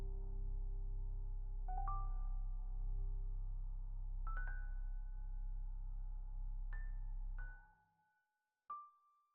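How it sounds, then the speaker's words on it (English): A low electronic hum fades out while sparse synthetic tones chirp and glide upward in brief pings, ending with a final ringing tone. "The sound you hear is the sound of this lighter black hole hitting space"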